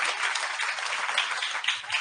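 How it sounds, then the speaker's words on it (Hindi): An audience at a celebration for a new government job selection claps in steady, continuous applause at moderate loudness, with no voices over it. "एक बार फिर से"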